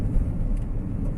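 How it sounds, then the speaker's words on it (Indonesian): Heavy trucks rolling along a roadside on the edge of Makassar, a dense, loud low-end engine and tire rumble, continuous and close with no talk. "Oh, ini ada truk-truk ini"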